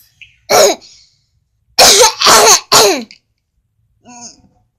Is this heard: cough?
yes